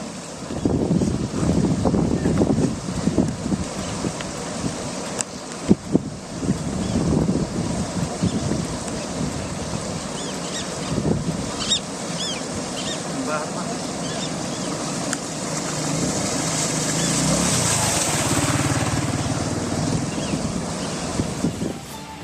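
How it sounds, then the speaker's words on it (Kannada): Ghataprabha river water released from upstream flows over the flooded Sunadholi bridge in Belagavi, a loud continuous roar and rush with gusty wind buffeting outdoors throughout. "ನೀರನ್ನು ಬಿಟ್ಟ ಪರಿಣಾಮದಿಂದಾಗಿ ಸೇತುವೆ ಮೇಲೆ ನೀರು ಹರಿತಾ ಇದೆ ನೋಡಿ ದೃಶ್ಯ"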